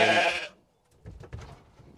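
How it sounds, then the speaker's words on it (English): Sheep bleating on a farm during lambing, one loud close bleat at the start, then fainter rustling and movement after a brief quiet gap. "I should probably do it without so many sheep shouting."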